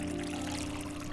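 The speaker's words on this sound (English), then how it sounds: "Click and hold to pour the water." Water poured from a kettle into a cup in a cat cafe video game, a faint, even stream of liquid running steadily with no voices over it.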